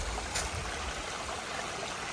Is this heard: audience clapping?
no